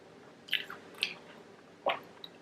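Someone chews Flamin' Hot Cheeto onion rings close up, with three distinct crunchy bites spaced apart, each followed by softer mouth noise, and no talking.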